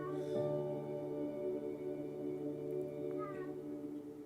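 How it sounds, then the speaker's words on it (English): A cat meows several times, a longer drawn-out cry followed by shorter calls, fairly close over a steady background hum. "That's my cat. Can you hear my cat?"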